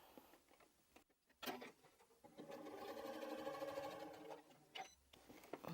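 Sewing machine stitching through thick quilted bag layers with a 2.8 stitch length, a steady mechanical whirring run of a few seconds between quieter handling pauses, no talk.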